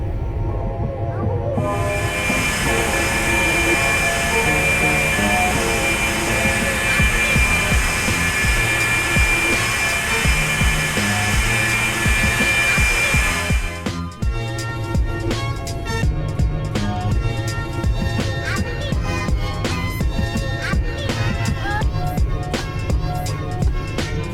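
Cessna Citation II (Carenado S550) twin jet engines in a climb at 225 knots in X-Plane 11, a steady loud broadband roar with a high whine that shifts in tone partway through and continues without break.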